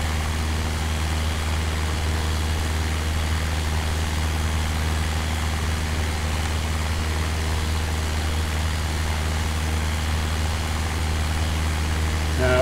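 Steady drone of a light aircraft engine in flight over the coast of West Wales, loud and unbroken throughout with a constant low hum and no voices.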